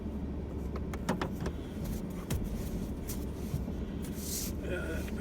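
A car engine rumbles steadily at close range while the driver shifts into gear, with a few sharp clicks and knocks from the cabin over the low drone.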